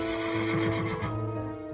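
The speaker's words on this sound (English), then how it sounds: "A horse, covered in all its armour, fell on him." A horse in full armour neighs loudly and close at hand, one long whinny with wavering pitch lasting under two seconds, with no voices over it.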